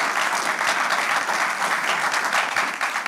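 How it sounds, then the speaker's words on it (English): A television show audience claps steadily in dense, sustained applause, loud and continuous throughout. "please join me to give a round of applause to Kwejo, who joins me on the show."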